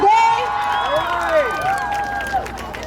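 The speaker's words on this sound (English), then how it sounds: "I want y'all to give a big applause to yourself" A street rally crowd at Union Square, with students who walked out of school clapping and cheering loudly together, voices shouting over dense applause that gradually eases.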